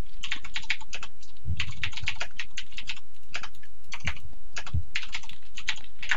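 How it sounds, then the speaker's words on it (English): Loud, clicky computer keyboard typing in bursts of rapid keystrokes with short pauses, close and dry, no talking over it. "typing really loudly. No, I like the sound of clicky keyboards."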